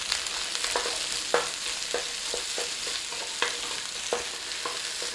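Onion and green pepper stir-fry with noodles over a flame, a steady close sizzle broken by repeated scraping strokes of a utensil against the pan, no voices.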